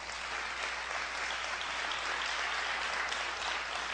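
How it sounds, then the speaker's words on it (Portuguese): Steady, dense applause from a church audience, clapping continuously at an even level for the whole stretch. "Vamos aplaudir a atitude dessa moça?"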